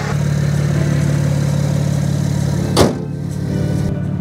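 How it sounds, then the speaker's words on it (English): A BMW Z4 with the N54 engine runs steadily with its radiator puller fan switched on, a continuous close engine drone and fan whoosh, with one brief louder transient partway through. "you can see that the fan is now turning on to keep everything nice and cool"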